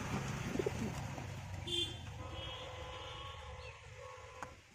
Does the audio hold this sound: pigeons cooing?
yes